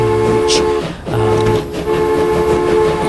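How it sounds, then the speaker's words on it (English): Two trains running on a new line in the Transport Fever 2 video game rumble loudly and continuously, with steady tonal engine or horn layers and a brief dip partway through. "Those are the two new trains running on the new line."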